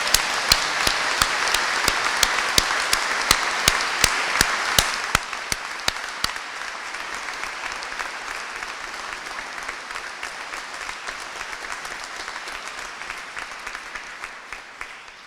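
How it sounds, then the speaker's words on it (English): Applause fills Carlisle Cathedral as an audience claps for standing University of Cumbria graduates at a degree ceremony. Sharp individual claps ring out over dense, steady clapping that softens after about six seconds and carries on long and reverberant. "let's give them a round of applause."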